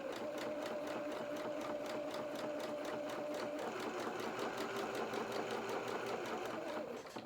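Sewing machine running a continuous zigzag stitch around the edge of fabric for a small winter dress, a steady close mechanical whir with a fast regular needle rhythm throughout, no talking.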